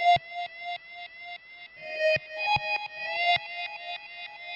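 A GarageBand Apple loop plays as a synthetic background texture: bright tonal pulses repeat in a steady rhythm with swelling echoes and occasional sharp clicks, heard alone and clear.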